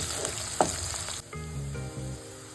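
Chopped vegetables frying in oil for a gongura curry produce a short bright sizzle with one stirring knock. The sizzle drops away quickly to quieter background tones.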